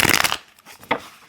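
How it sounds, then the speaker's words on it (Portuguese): Tarot cards shuffled by hand, a quick riffling flutter up close followed by a second short burst of cards slapping together. "Eu pego aqui, eu embaralho, né? Tem milhares de formas de embaralhar o tarô."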